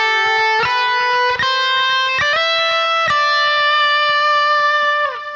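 An electric guitar plays a short, sustained solo phrase from a song, with slides between notes on the high string. The notes are loud and close, slightly overdriven, and ring out one after another without talk.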